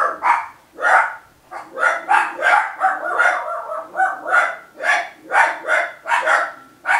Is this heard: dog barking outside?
yes